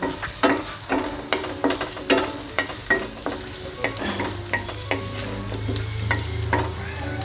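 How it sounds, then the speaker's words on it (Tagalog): Garlic and ginger sautéing in a pan, with steady sizzling broken by repeated sharp scrapes and knocks of a spatula stirring close by, no voices. "sisimulan natin ang paggigisa sa ating bawang ay luya"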